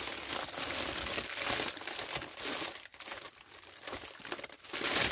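Gift wrapping paper crinkles and rustles continuously at close range as a present is unwrapped, with uneven bursts of crackling and brief pauses.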